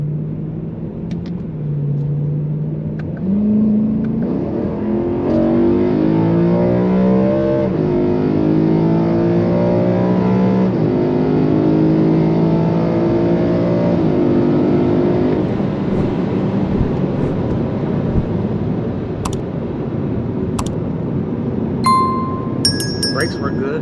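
A BMW E92 M3 with a V8 of about 414 horsepower accelerates hard on a drive. The engine note climbs through several gear pulls in a loud, close, rising roar, followed by light clinks near the end.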